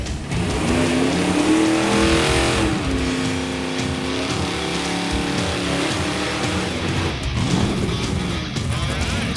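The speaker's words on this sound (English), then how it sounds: "Let's give a little watch and listen to the last burnout of the show." A 1969 Buick Skylark drag car's loud engine roars and revs continuously during a tire-spinning burnout, with rising and falling pitch and a harsh, gritty squeal throughout.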